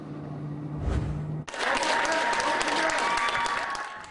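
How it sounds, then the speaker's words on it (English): Philadelphia Flyers hockey fans cheering at the Wells Fargo Center, a loud crowd roar with clapping that bursts in abruptly after a moment of quieter sound and holds steady to the end. "The first cheer of the game"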